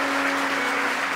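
A short burst of dense clapping from a church congregation, steady and fairly loud throughout.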